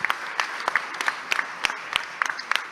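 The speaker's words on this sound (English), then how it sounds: "Please give them a round of applause" Applause from a forum audience at the 2024 Khazanah Megatrends Forum in Malaysia; a modest group claps with clearly separated, crisp strikes in an irregular patter, fairly close and moderately loud.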